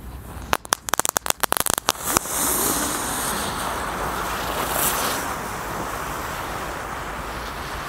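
Fireworks and firecrackers (mercon) go off outdoors in a fast run of sharp, loud cracks. A sustained hissing, crackling roar follows and fills the rest of the stretch.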